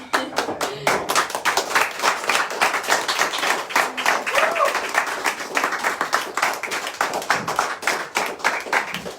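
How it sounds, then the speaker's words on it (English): Small group of wedding guests at an intimate Covid-era ceremony in a Glasgow bothy clapping for the newly married couple, close, distinct individual hand claps with an uneven rhythm, a few cheers and voices mixed in. "let's have a wee clap"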